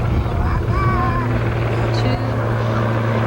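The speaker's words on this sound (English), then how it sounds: "Look at all the helicopters around." A steady low rotor drone from helicopters circling near Kennedy Space Center before a Space Shuttle Atlantis launch, with a few faint tonal sounds drifting above it.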